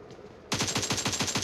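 Rapid automatic gunfire in PUBG Mobile, about a dozen sharp, evenly spaced shots in a fast burst that starts abruptly and stays loud and close, with no talking.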